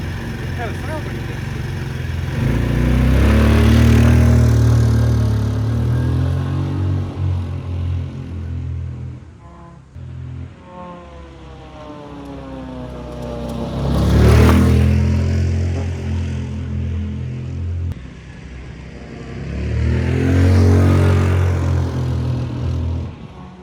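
A homemade scootski, a small motorized ride built at home, runs on its first drive: a loud, close engine rising and falling in three long revving swells with whining pitch sweeps, steady drone between them.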